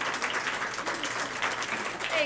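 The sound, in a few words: audience applause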